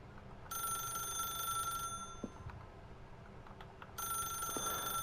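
A telephone rings in The Stanley Parable, two bursts of bright ringing separated by a quiet gap, sounding fairly close and clear over a low room hum with no talking.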